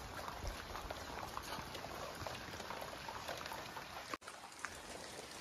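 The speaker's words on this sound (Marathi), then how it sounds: "जाम जोरात पाऊस आहे." Steady dense monsoon rain in Konkan patters on surfaces, a continuous wash of drops with a brief dropout near the end; fairly quiet.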